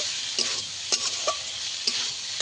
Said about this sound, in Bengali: মশলাটা একটু ভালো করে কষিয়ে নিতে হবে।